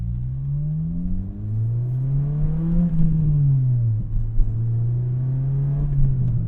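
A 2006 Acura RSX Type S pulls hard in third gear, its engine drone climbing steadily in pitch, dipping briefly at a lift, then rising again, heard from inside the cabin as a steady, loud, continuous hum.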